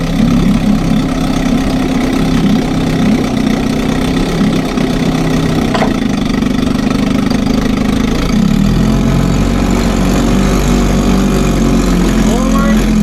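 A 1957 Sea King 5HP outboard motor, running for the first time in 20 years, idles loudly and steadily in a test tank, with a slight shift in tone partway through as it goes into gear.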